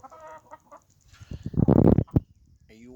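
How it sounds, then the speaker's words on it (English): Backyard chickens give short clucks and bursts of agitated squawking, a loud flurry in the middle between quieter calls, close by. "I guess we have some concern about our chickens."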